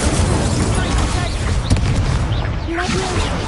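A fire spell is cast in Hogwarts Legacy, giving a brief burst and whoosh of flame over steady game music and ambience, with a short voice calling out the spell.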